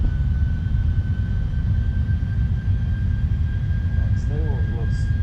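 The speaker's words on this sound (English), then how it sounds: "Let's turn up those sounds a little bit more with those beautiful engine sounds." Boeing 747-400 freighter jet engines in the Prepar3D v5 flight simulator, a steady loud low rumble with a thin high whine throughout, faint brief chirps near the end.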